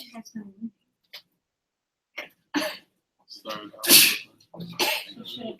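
A single sharp sneeze bursts out amid casual conversation, with several people talking nearby before and after it.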